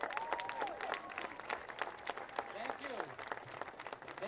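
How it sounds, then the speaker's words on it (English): Audience applause fills the space for the festival president at the 2014 Revere Beach National Sand Sculpting Festival awards presentation, steady dense clapping with voices talking and calling over it throughout. "I think he deserves a round of applause"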